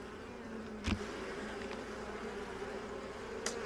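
Bees hum steadily around an open beehive in an apiary during a hive inspection, a close, continuous buzz with a couple of brief taps or knocks from handling the frames.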